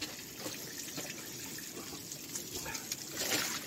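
Cold spring water pours steadily from a village spout, a continuous close splashing rush with no pauses.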